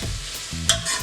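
Onions sauté in an instant pot for a Jamaican brown stew fish, a short burst of gentle sizzling with a quick stirring scrape, close and fairly quiet with no talking.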